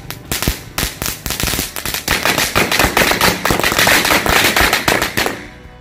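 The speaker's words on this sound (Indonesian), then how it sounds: "Kita lanjut lagi ini menyalakan mercon Mini Woody Woodpecker guys" A Mini Woody Woodpecker firecracker goes off in a rapid string of sharp, loud cracks that crackle on for about five seconds before stopping abruptly.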